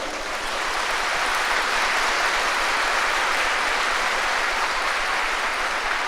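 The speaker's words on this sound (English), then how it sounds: "give a thunderous applause for Vivekananda" Thunderous applause from a large audience at a talk on youth empowerment, a dense, steady roar of many hands clapping that holds loud and unbroken for the whole stretch.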